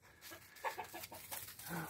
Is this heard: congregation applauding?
no